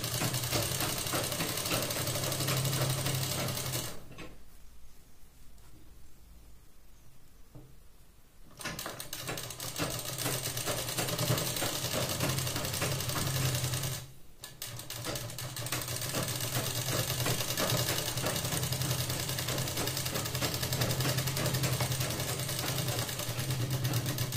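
A sewing machine runs in long steady bursts of rapid mechanical stitching on a 36-size two-piece prince-cut blouse, pausing twice, once for several seconds and once briefly, before carrying on.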